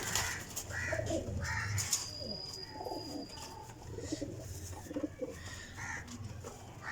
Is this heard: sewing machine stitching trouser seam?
no